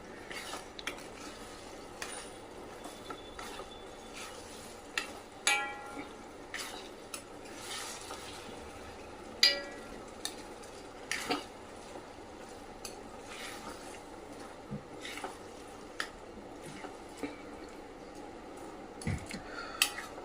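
Oysters cook in a pan with a soft, steady sizzle, marked by scattered utensil clicks and scraping taps against the pan.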